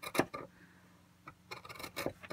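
Scissors snipping through fabric while a lightweight summer jacket is cut out for a doll, giving a few short, soft, close-up cuts and rustles separated by brief pauses.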